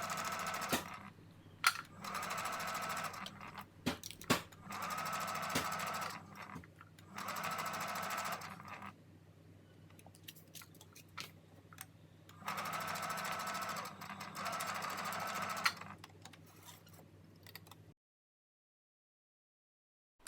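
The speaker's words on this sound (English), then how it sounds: "Then go back to the sewing machine and understitch at 1/8 of an inch." Sewing machine understitching a seam 1/8 inch from the edge on a pocket of culottes, running in several steady bursts of rapid whirring separated by short pauses, fairly close and clear with no talking.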